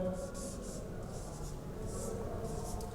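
Pen scratching across paper while working through a math problem, a soft continuous scribble with a few short strokes over a low background hum.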